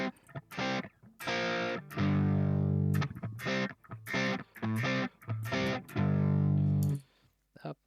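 Distorted electric guitar played through a Headrush Prime multi-effects unit on a Friedman amp model, heard up close as a run of short chord stabs and longer sustained chords separated by brief gaps.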